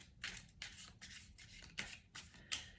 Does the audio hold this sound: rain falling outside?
no